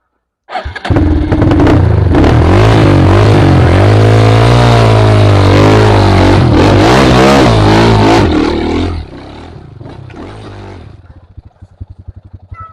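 A trail motorcycle engine on an off-road mountain track at Gunung Klotok, loud and close, starting abruptly and revving with rising and falling pitch for several seconds before dropping to a rougher, quieter idle.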